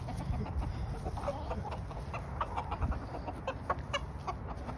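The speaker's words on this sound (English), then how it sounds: "Watching the chickens run around with a dead mouse" Backyard chickens cluck and chatter continuously while running around with a dead mouse, with scattered sharper calls rising over a busy, close-up barnyard murmur.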